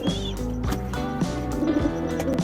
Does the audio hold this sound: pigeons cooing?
yes